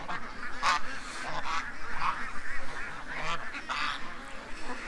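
Several loud honking quacks from ducks in a yard, repeated in bursts over a few seconds, fairly close outdoors.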